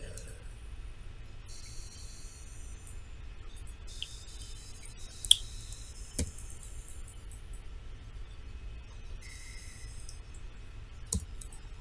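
Soft, sparse computer mouse clicks from right-clicking in Adobe Illustrator tick out one by one over a quiet, hissy room, a few sharper than others, with no talking heard.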